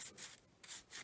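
Sandpaper of 220 grit rubs around the inside of a ring in short, soft, rhythmic strokes, about four passes in one second, faint and close.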